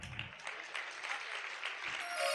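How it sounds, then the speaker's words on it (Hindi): Audience applause for a children's stage play about Sita's message, performed by a school troupe; a steady wash of clapping from a crowd that fills the whole stretch at an even level. "जोरदार तालियों से हमारे इन सब बच्चों का आप स्वागत करें, अभिवादन करें।"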